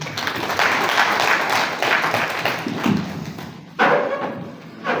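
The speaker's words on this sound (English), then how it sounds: "another has clapped our chief guest" Audience applause at a church diocesan school event in Kabale honors the chief guest, a dense run of clapping with a brief lull and a fresh surge near the end.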